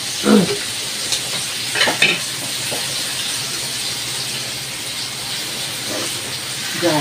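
Meat sizzles on a grill at a samgyup dinner, a steady hiss with occasional louder crackles and clatter, under brief sounds from people at the table.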